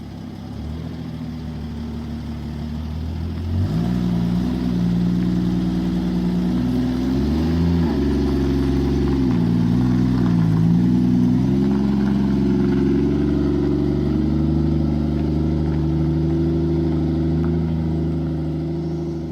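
A 1967 Jeep Gladiator engine, dormant for over 40 years, runs loud and close as the truck pulls out of a garage, its low steady rumble swelling slightly as it moves off.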